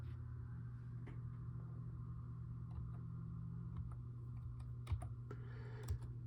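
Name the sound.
typing on a computer keyboard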